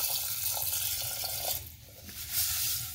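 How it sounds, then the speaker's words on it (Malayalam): Water poured into a pressure cooker holding green gram with a pinch of salt, a steady splashing trickle that fills the near foreground before tapering off. "വെള്ളം ഒഴിക്കാം."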